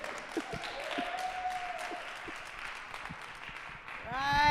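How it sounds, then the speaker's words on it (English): Faint applause from a comedy audience at the Pikes Peak Live 2023 show rises and thins for a comedian, with a voice talking over the clapping throughout. "another round of applause for Warren Epstein"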